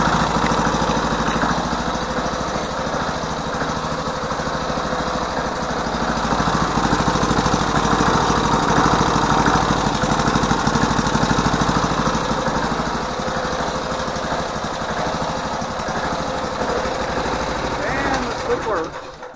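Lift engine of a Hoverstar 2+2 hovercraft running on a test stand, a loud steady droning idle with constant vibration throughout, people talking over it.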